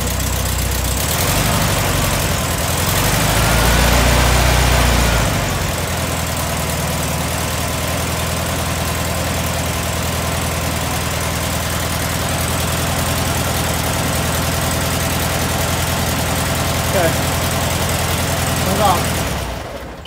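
A VW Thing engine idles steadily and is given a brief throttle blip early on, a close, continuous low rumble that runs the whole way with occasional clicks of work nearby.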